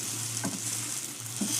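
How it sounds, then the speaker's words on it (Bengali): An egg paratha fries in a pan with a steady close sizzle and light crackle, while faint scraping sounds come and go. "এবার চেপে চেপে আমি একটু ভেজে নেব পরোটাগুলো।"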